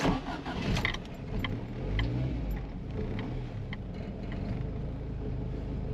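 Vintage car engine cranking and catching, a brief jangle of keys and starter clatter at the start settling into a steady idle, close and moderately loud with no voices.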